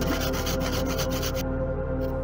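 A saw rasps back and forth through a spare MDF board being cut to shape for a prop saber handle, with steady scraping strokes up close that stop partway through, leaving a quieter hum.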